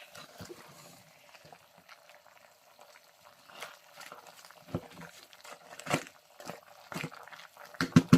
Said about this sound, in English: It's boiling nicely.